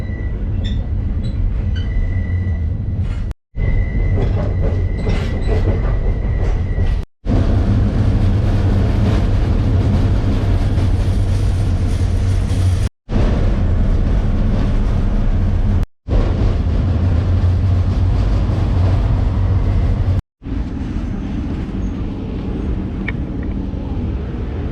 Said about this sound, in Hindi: तो अभी यहाँ से मैं ये ट्रैम पकड़ के आगे जाऊँगा वापस।